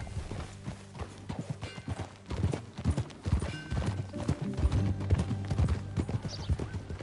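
Horse hooves clip-clop steadily as a horse is ridden in Red Dead Redemption 2, the beats close and fairly loud, with a brief whinny and a low musical score underneath.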